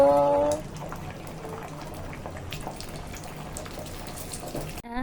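A round egg drops into well-heated oil and fries with a steady, close sizzle and fine crackling, after a brief moment of other sound at the start.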